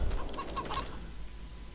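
Chickens clucking in the Farming Simulator 22 video game, several short clucks over about a second from a barn, fairly faint over a steady low background hum.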